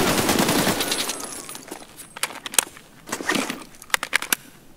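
Bursts of rapid gunfire in the video game Escape From Tarkov crackle in quick volleys, with sharp individual shots scattered between the louder clusters.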